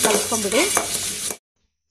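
Puffed rice being stirred with oil in a pan, a close rustling, scraping churn of dry grains against metal that cuts off abruptly after about a second and a half.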